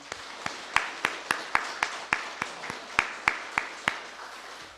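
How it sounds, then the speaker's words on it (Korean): A church congregation claps for its deacons at the end of a service with a steady, evenly paced run of crisp handclaps, about three per second, fairly close and alone, without talk. "우리 수고하신 집사님들 위해서 한번 박수하겠습니다."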